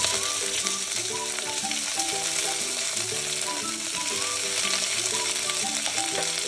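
Sliced onion fries in a pan with green chillies and whole spices (cloves, cinnamon, pepper) for a masoor pulao, giving a loud, constant close sizzle with soft scraping and stirring underneath.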